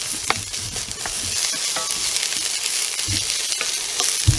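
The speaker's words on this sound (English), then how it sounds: "I'm going to throw my onions in there." Onions sizzle steadily in a hot pan over medium to medium-high heat for beef stroganoff, with a few scraping stirs breaking through the constant frying hiss, close and alone.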